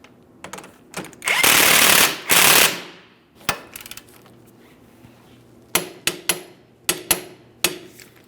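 A wrench and ratchet snugging a control arm bolt on a 2005-2010 Chrysler 300 5.7L V8 rear suspension: two long, loud buzzing ratchet bursts, then scattered sharp clicks and taps close by, no talking.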